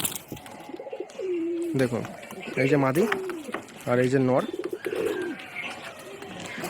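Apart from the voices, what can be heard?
restless male and female pigeons cooing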